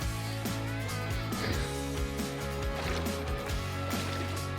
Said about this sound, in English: a motorized canoe going out to your yacht anchored offshore